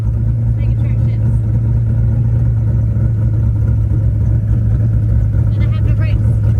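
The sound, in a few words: car engine with TKX manual transmission shifting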